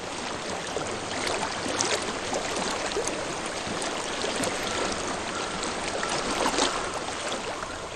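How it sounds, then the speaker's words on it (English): A flowing stream in the video game Hellblade: Senua's Sacrifice runs steadily and softly, a continuous trickling, babbling wash of water with no voices over it. "I hear water. Go to it."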